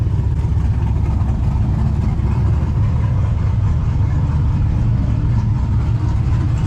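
A 5-cylinder twin-turbo diesel truck engine at Rocky Mountain race week rumbles steadily at idle, a loud, deep, continuous low-end drone with faint turbo hiss and no pauses or revving.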